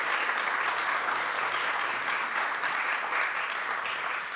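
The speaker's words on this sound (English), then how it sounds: "give yourselves a round of applause for what you have done" Sustained applause from an audience at a fundraising campaign gathering, a continuous even clapping texture at moderate volume with no pauses.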